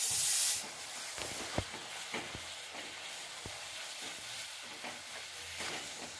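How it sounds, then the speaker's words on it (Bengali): Jaggery melts in a kadai as it is stirred, a soft steady sizzle and hiss with occasional light scrapes of the spoon against the pan, close and alone. "কড়ার মধ্যে এবারে গুড়টা দিয়ে দিচ্ছি।"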